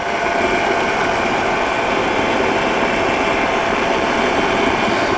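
Steady, loud drone of a PeaBee light aircraft engine in level cruising flight, a continuous broadband hum with wind roar and no breaks.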